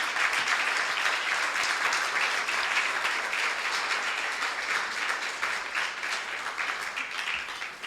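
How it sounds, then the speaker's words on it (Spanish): A church congregation at a Spanish-language service applauds with steady, sustained clapping from a crowd, fading slightly at the end. "Denle un aplauso al Señor"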